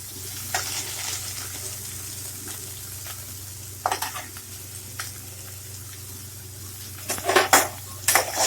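Onions fry in a pan during a kovakkai (ivy gourd) dish, a continuous sizzle under repeated clanks and scrapes of a utensil stirring, with clusters of louder knocks near the end.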